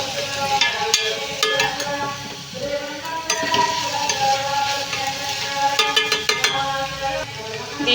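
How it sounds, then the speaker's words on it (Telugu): Onions sizzle and fry in a steel pan, a steady crackling hiss with frequent sharp clinks and scrapes of stirring throughout, close and fairly loud, with no talking. "ఉల్లిపాయలు అయితే ఫ్రై అయిపోతున్నాయండి ఇంకా కొంచెం అయితే ఫ్రై కావాలి"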